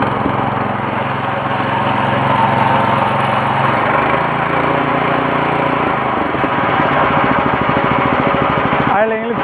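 A small petrol weeder engine runs loud and close, a continuous buzzing drone that shifts pitch midway as the throttle changes, then cuts off abruptly at the end.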